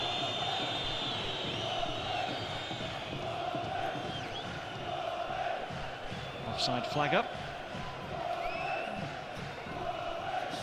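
Travelling Portsmouth supporters roar steadily throughout a packed football stadium during a 2008 match against Guimaraes, with a commentator talking over the crowd.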